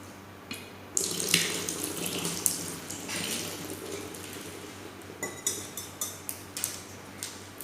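Water from a faucet running into a lab sink, with glass clinks and bottle handling, as a BOD bottle is filled slowly during a water quality analysis; streams come in irregular bursts with sharp knocks.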